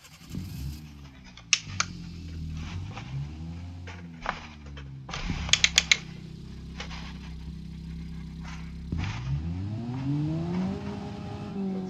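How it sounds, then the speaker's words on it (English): A Toyota Yaris engine with a CVT transmission in the BeamNG driving game cranks and catches, then idles and revs up and down, with rising and falling engine tones and a few clunks. "So let me start the car."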